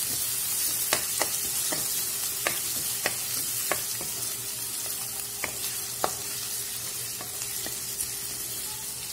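Onions frying and sizzling in a pan with a steady hiss, and a string of sharp clinks and scrapes from a spoon stirring them at irregular intervals; no voices.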